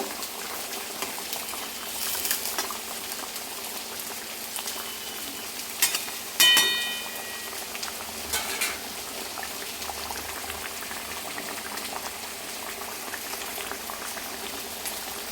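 A pot of thin rohu fish curry with new potatoes boils steadily, bubbling and simmering close up with a brief clatter and stir partway through, no voices.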